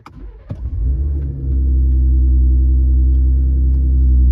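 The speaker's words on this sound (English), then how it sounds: "Let's start the truck." A Ford F-150 Raptor EcoBoost pickup engine cranks briefly with a clatter, then catches and settles into a loud, steady low idle close by.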